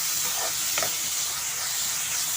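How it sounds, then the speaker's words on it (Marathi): Onion and garlic sauté in a hot pan, a soft steady sizzle and hiss at close range with a faint scrape of stirring partway through. "तर आता हा कांदा जो आहे तो मी एक अर्धा मिनिट परतून घेते."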